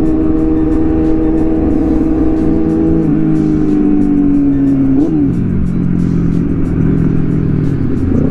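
A Yamaha R6 sport bike's engine revs loud and close, the pitch sliding down as the auto-blipper fires on downshifts, with a sharp blip near the middle before the note drops away.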